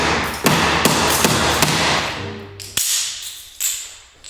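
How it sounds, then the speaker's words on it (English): Broken filler is chipped off the front dome of a London bus with a series of sharp hammer-like knocks and scraping thuds, close and loud, in an irregular rhythm. "At the moment I'm just chipping the broken filler off from around the front of the dome"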